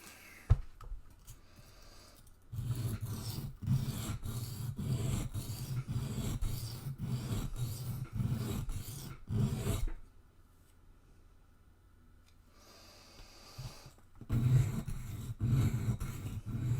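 A Spyderco Delica knife blade is sharpened with rapid back-and-forth strokes, rasping rhythmically and close for several seconds, pausing in near silence, then resuming.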